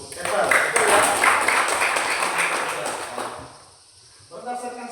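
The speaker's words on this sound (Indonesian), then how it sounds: "Tepuk tangan untuk Ever." A classroom group claps briefly for a student after a correct answer, a burst of mixed hand claps that swells then fades away, followed by a voice speaking near the end.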